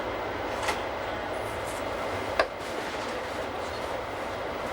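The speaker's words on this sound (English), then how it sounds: "The loco hauling our train is one of the 9 GE 443 engines delivered during 1994 by SLM Winterthur" A Glacier Express train hauled by a GE 443 electric locomotive rolls along with a steady, muffled rumble heard from inside the carriage. Two brief sharp clicks from the wheels cut through the constant drone.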